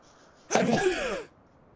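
A single close, loud sneeze, one sharp burst that trails off in under a second, alone in a quiet indoor room.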